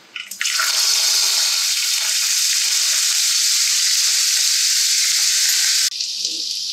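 Ginger paste sizzles loudly in hot oil with cumin seeds and a pinch of asafoetida in a pan, making a steady, close frying hiss that cuts off sharply near the end.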